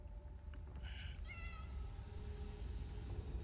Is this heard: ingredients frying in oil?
no